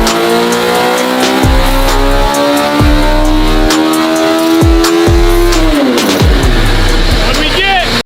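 A modified car engine on nitrous roars loud and sustained, holding a steady high drone with rising pitch before it shifts and surges near the end; voices are faintly present beneath it.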